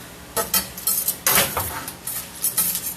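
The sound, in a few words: stirring noodles in a pot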